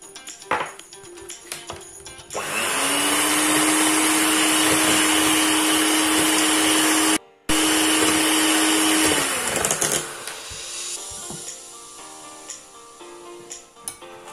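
An electric mixer whirs steadily at high speed while blending clafoutis batter with melted butter, starting abruptly, pausing briefly midway, then cutting off to quieter kitchen clatter.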